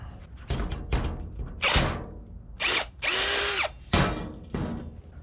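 Several short bursts of a power drill with a brand new bit whirring, starting and stopping irregularly, close by, with a longer steady run in the middle and a few thuds between, during repairs on a cheap skid steer.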